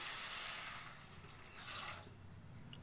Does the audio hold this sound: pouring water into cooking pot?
yes